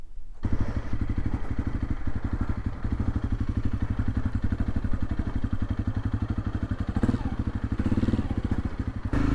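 A dirt or enduro motorcycle runs steadily near the microphone on a back-country track on Koh Lanta, its engine putting out a loud, continuous, chugging drone with slight throttle changes throughout.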